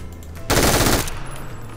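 A short, loud burst of rapid automatic gunfire from a video game machine gun cuts in over a quiet background and lasts about half a second.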